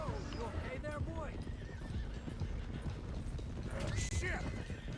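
Horses whinny and hooves clip-clop steadily in Red Dead Redemption 2 as a small herd is driven toward Clemens Cove, with a loud whinny near the end and a voice speaking over the hoofbeats.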